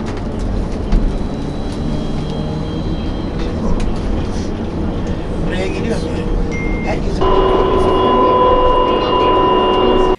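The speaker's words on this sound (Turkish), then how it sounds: "Hızlı, güvenli ve konforlu olarak seferlerini gerçekleştiren tramvaylar vatandaşları gitmek istedikleri yere ulaştırıyor." A tram of the Akçaray line in Kocaeli runs along the track, giving a steady rumbling roar with a rising electric whine toward the end, loud and close.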